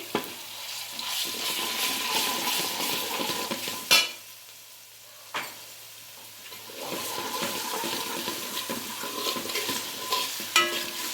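Ginger-garlic paste frying in a pan for a goat head curry, a close sizzle with stirring scrapes, two sharp knocks and a quieter gap in the middle, no voices.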